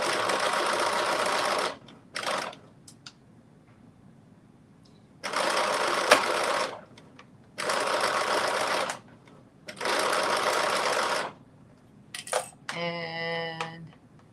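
A home sewing machine runs in four quick bursts of rapid stitching along a garment seam near the fabric edge, with short pauses between, ending with a few clicks and a brief beep.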